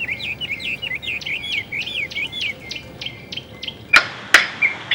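A bird in Botswana gives a rapid series of clear, repeated chirps up close, followed by two sharp knocks as it strikes a window, then a few more calls.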